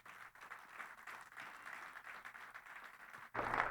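A church congregation applauds during a morning worship service, with a soft, even clapping that stays moderate, then swells sharply louder near the end.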